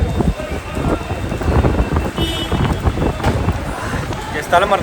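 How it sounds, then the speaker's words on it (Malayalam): Heavy rain and gusting wind roar steadily and loudly, with low rumbling bursts that suggest thunder, heard during a long-distance motorcycle journey across India near Wagah. "അടിപൊളി മഴയും കാറ്റുമാണ്."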